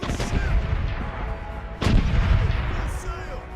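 Booming ship cannon volleys in the naval pirate game Corsairs Legacy: one rumbling blast at the start, then a sharper loud shot partway through that trails off into lingering low thunder, with some game noise underneath.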